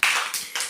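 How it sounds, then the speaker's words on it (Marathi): Children clapping their hands loudly during a classroom activity, a burst of overlapping claps followed by a second burst, close and bright. "जोरात टाळ्या वाजवा"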